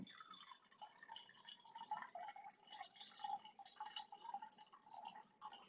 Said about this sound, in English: I'm filling up my cup with water